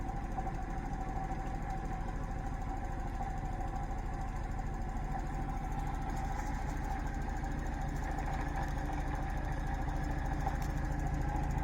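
A magnetic switching motor runs at 30 volts, giving off a steady, even mechanical hum with a fast, regular pulsing throughout. The sound stays close and constant, with no talking.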